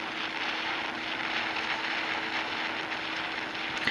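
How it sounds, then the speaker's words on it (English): A stealth bomber passes overhead in the HM:Defence tower-defence video game, a steady, broad jet roar that holds at an even loudness for the whole few seconds, with no talk over it. "You can see a stealth bomber fly over"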